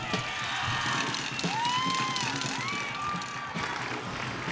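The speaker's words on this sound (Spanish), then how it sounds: "¡Arriba ese aplauso para nuestro amigo Ernesto Cordero! ¡Arriba esas porras!" A crowd at a campaign closing rally applauds and cheers, with whoops and shouts rising over steady clapping at moderate distance.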